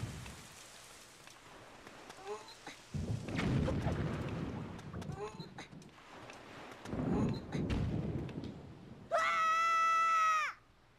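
Rain and thunder in Zelda: The Wind Waker, with a steady hiss of rainfall broken by repeated rumbling swells, and a brief high game tone near the end.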